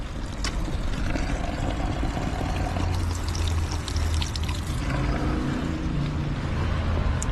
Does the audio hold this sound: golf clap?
no